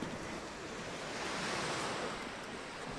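Calm winter sea waves wash onto the beach at Sopot, a steady, soft broadband surf hiss with gentle swells, close and continuous, mixed with light wind on the microphone and no voices.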